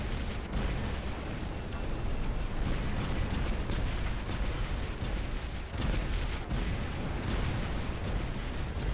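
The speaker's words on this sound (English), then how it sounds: "Now I'm exploding" A robot in War Robots explodes amid heavy booming blasts, a loud, dense barrage of rumbling detonations and pops lasting several seconds.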